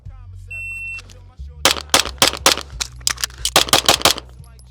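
A pistol fires a rapid string of about ten to twelve loud shots in quick, slightly uneven rhythm during a shooting drill, preceded by a steady electronic timer beep.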